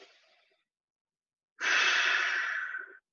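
A steady, close inhale through the nose during a mindful breathing exercise lasts over a second and follows a faint trailing breath.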